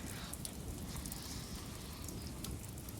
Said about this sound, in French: La pluie ruisselait dans mon cou.